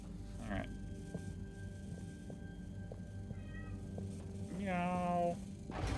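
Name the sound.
cat meowing in video game Harold Halibut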